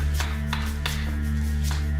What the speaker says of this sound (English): angle your blank down and chop inwards towards the neck